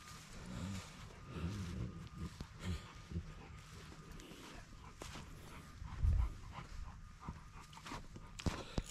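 A dog pants steadily in its pen, quick rhythmic breaths close by over a noisy yard background, with a louder thump partway through.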